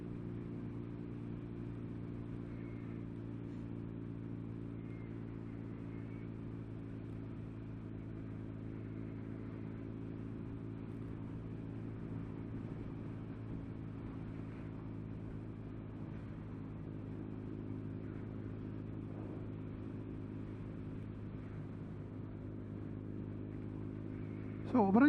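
A BMW R nineT motorcycle cruising at a steady 60 mph in top gear, a low, even engine drone with a smooth, constant hum throughout and a brief rise at the very end.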